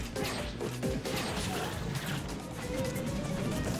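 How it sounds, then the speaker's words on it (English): Little Mac's forward smash punches landing in Super Smash Bros. Wii U during a tournament losers-finals match: a few heavy, close thuds in quick succession over a constant bed of busy game sound. "Three straight forward smashes."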